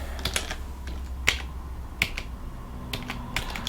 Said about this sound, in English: That's what we've been typing.